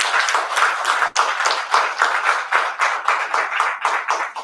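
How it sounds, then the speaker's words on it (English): An audience at a formal signing ceremony applauds the President, a dense, close burst of many hands clapping steadily for several seconds with no talking over it. "So I want a round of applause for His Excellency the President."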